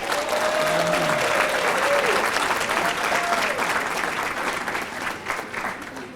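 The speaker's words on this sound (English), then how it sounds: "She's already received her award, but let's give her another round of applause, Tori Taylor." Sustained audience applause fills a bowling awards banquet hall, steady and loud for about six seconds before easing slightly, with a faint voice briefly audible over the clapping.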